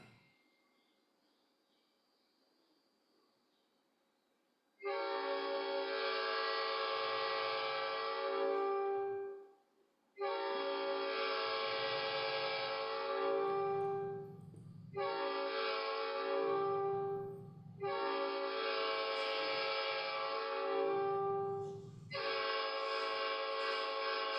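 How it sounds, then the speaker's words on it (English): A Rock Island locomotive horn sounds in five long, loud chord blasts with short gaps between them, played alone after a quiet start. "You can go ahead and play the notes. This is your Rock Island horn."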